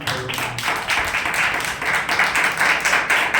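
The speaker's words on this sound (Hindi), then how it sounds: "ताली बजा के" A church congregation claps together during a Hindi sermon, a loud, continuous wash of hand claps with a faint rhythmic pulse and no voices over it.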